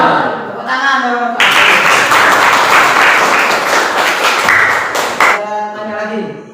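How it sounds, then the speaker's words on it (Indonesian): Clapping breaks out among a group at an Islamic funeral-rites practice class on shrouding a body, a dense burst of many hands lasting about four seconds between stretches of talk. "Tepuk tangan dong."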